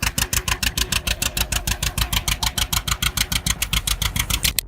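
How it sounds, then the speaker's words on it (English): A 1950s-era Model D two-cylinder tractor engine runs with a loud, close, evenly spaced pop-pop exhaust beat that repeats steadily for several seconds, then cuts off abruptly at the end. "hearing that 2-cylinder pop-pop is enough to bring tears to an old farmer's eyes"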